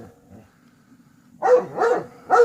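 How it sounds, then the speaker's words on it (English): A dog barks three times in quick succession, sharp and fairly close, after a few seconds of quiet low background rumble. "where the dog's barking"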